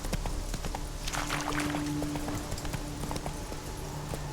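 Roach, the horse in The Witcher 3, gallops with rapid, steady hoofbeats on open ground, the clip-clop close and continuous with a faint tonal hum beneath.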